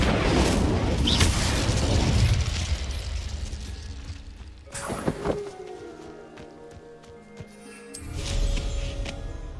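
Incendio fire spell cast in Hogwarts Legacy: a loud rushing burst of flame roars for several seconds, followed by a sharp impact, lingering magical tones and another whooshing flare, with no talking.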